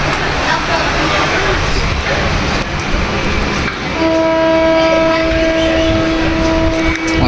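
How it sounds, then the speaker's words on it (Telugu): Inside the moving Samata Express (12807) from Visakhapatnam to New Delhi, steady rumbling rail noise carries on until the train's horn sounds in a long sustained blast during the second half. "ప్రెజెంట్ అయితే మనం వైజాగ్ నుంచి న్యూఢిల్లీ వెళ్ళే సమతా ఎక్స్ప్రెస్లో అయితే ఉన్నాం"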